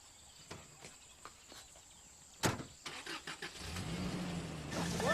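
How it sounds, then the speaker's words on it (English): Truck driving past in the African bush at a lion reserve, a low engine rumble building over the last couple of seconds after scattered clicks and knocks, with faint insects in the background. "Watch out for this truck here!"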